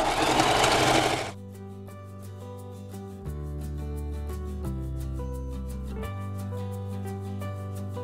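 A sewing machine stitches a skirt in steady runs of buzzing, rhythmic whirring, stopping and restarting a few times, up close, after a brief burst of rustling at the start.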